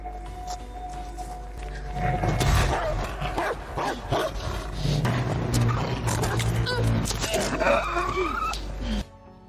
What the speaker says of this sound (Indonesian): Mendengar acu peliharaannya menggonggong, si Bang Bang pun bergegas mengeceknya kelua